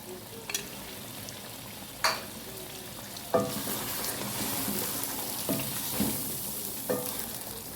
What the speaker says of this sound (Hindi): देखिए कितनी अच्छी भुनाई हो रही है, मसाले ने और घी छोड़ना शुरू कर दिया